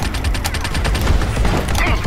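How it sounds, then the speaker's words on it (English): Rapid gunfire in the video game Army of Two, a dense burst of repeated shots over about two seconds, loud and close. "You shoot me! I shoot him back."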